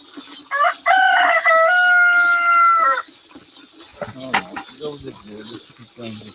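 Chickens gathered in shade outdoors, with a near rooster crow followed by a run of clucking and squawking calls, moderately loud and close.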